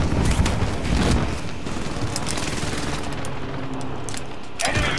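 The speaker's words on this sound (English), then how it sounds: "Allied precision airstrike incoming." Video game airstrike explosions mixed with gunfire, a loud rolling rumble and crackling bursts that hold steady for several seconds and then flare again at the end, with no talking.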